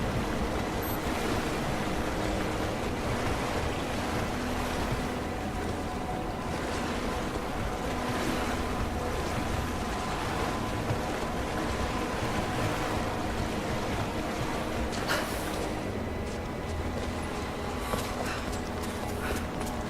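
Water rushes after blue plugs burst in Rise of the Tomb Raider, a loud, continuous roaring wash like surf and wind that stays dense and unbroken for the whole stretch, with no voices.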